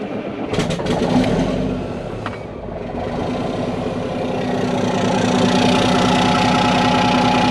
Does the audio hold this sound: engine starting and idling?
yes